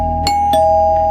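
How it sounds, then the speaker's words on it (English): A doorbell sound effect in a horror story rings out loud and close: a single two-note ding-dong with a ringing, sustained tone that lingers after the strikes. "someone rang the doorbell again"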